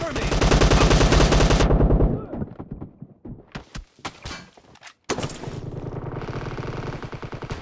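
An M1014 shotgun fires in PUBG Mobile team deathmatch, with rapid loud bursts of gunfire followed by scattered echoing shots and then more sustained firing, close and dominant, with game voice callouts mixed in.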